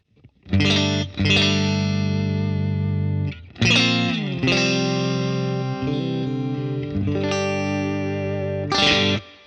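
Electric guitar through a Koji compressor pedal, sustained notes and chords with an even, smoothed attack and long ringing sustain, played alone at steady loudness.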